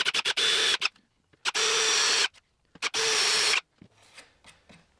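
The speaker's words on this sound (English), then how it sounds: "I'm going to solve that problem by just countersinking these holes a bit so that the head of the screw will go into them" A power drill countersinks screw holes in wood for a wooden bicycle build, running in three loud, steady bursts of a few seconds each. Short clicks and trigger blips separate the bursts, and a quiet room is left at the end.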